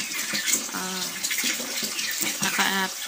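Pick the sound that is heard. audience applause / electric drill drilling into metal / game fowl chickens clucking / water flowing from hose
water flowing from hose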